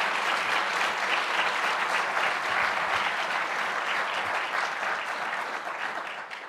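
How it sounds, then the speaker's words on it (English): A conference audience claps warmly and continuously, a dense wash of many hands that stays full and then slowly fades toward the end. "So may you join me in a phenomenal applause for that."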